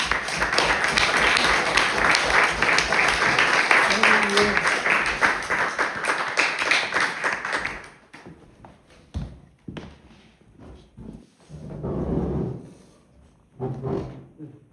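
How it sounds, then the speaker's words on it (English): Audience applause at a poetry reading in Point Reyes, dense steady clapping for about eight seconds that cuts off abruptly, followed by scattered handling noises and a few quiet voices. "Let's give Xerxes a round of applause"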